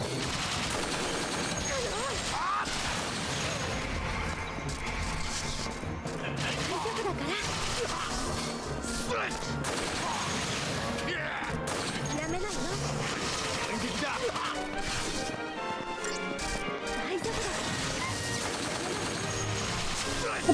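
Game gunfire from Final Fantasy XIII, dense and continuous throughout, mixed with battle effects, crashes and music under a steady loud soundscape.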